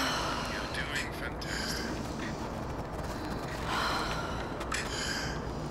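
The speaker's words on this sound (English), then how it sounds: "I'm actually gonna start with some breathing exercises" Wim Hof style breathing exercise before cold water immersion, with continuous heavy forceful breaths and rushing air close to the microphone, a steady dense noise throughout with no clear pauses.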